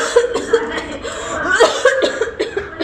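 A person coughs in a quick run of harsh bursts, close and fairly loud, in a demonstration of coughing and sneezing etiquette, with a few chuckle-like sounds mixed in.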